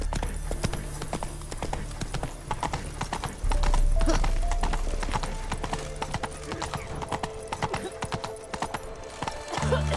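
Steady clip-clop hoofbeats of a horse galloping in The Witcher 3: Wild Hunt on PS5, running continuously at close range over game ambience, with a brief whinny-like sound mixed in.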